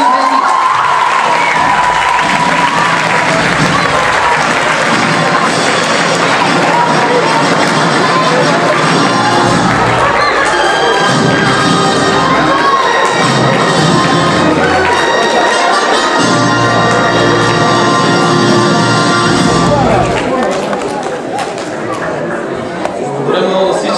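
A school audience at an awards event cheers and applauds loudly and continuously, with shouts and whoops from children, and talk mixed through the noise.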